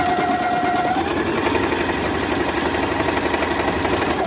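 A Singer sewing machine fitted with a pintuck presser foot stitches fabric in one continuous, close, steady mechanical hum with rapid rhythmic needle knocking throughout.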